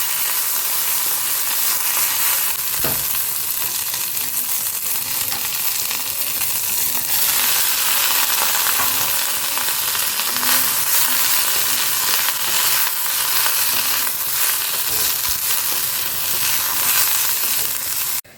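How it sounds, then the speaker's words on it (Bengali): Eggplant with neem leaves frying in hot oil, a dense, loud, continuous sizzle with occasional stirring scrapes, close up and with no talking. "তো চলো আগে নিম বেগুনটা ভেজে নিই।"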